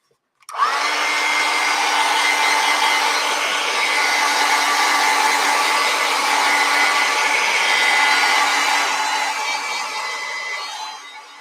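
A hair dryer dries the paint on a fantasy mushroom landscape painting, running as a loud, steady, close-up whir for about eleven seconds before easing off at the end.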